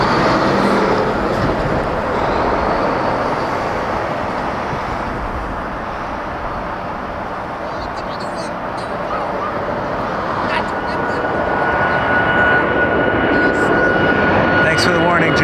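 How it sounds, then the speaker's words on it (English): A Boeing 737 MAX 8 jet departs from a runway at Toronto Pearson Airport, a loud, steady engine roar that swells and fades slightly, with a high whine, heard from a distance without talk. "We have a departing Max 8 Flare 613 to Vancouver."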